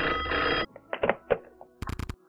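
A telephone rings in a horror video game, a loud electronic ring first, then scattered knocks and thuds, and finally a rapid burst of bell trills near the end, heard alone without voices.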